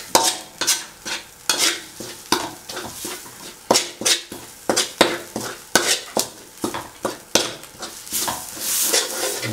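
Curry paste for a Thai catfish curry being stir-fried in a pan, with rhythmic scraping strokes of a utensil against the metal repeating about twice per second over a soft sizzle, close and alone.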